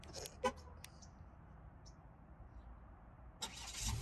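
A Cadillac engine, started by remote start, cranks and turns over, starting up at the end after a few faint clicks and a quiet pause.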